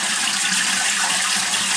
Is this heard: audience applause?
no